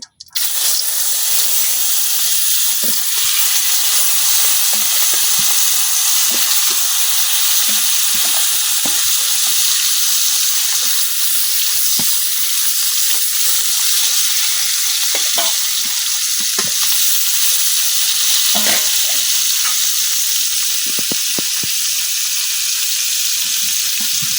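Koi fish sizzle and fry in hot oil in a wok, a loud, steady crackling hiss with scattered pops and stirring knocks that runs unbroken throughout.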